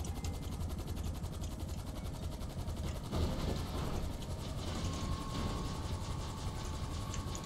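Helicopter rotor in the GTA 5 Online video game, a steady mechanical thrumming drone with rapid rhythmic beating, loud and continuous throughout with no talk.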